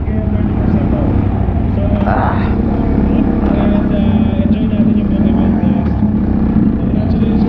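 A 2024 CFMOTO Papio XO-2 Trail motorcycle ridden on a test ride at an event, heard as a loud, continuous engine drone mixed with wind rumble, with a voice speaking over it.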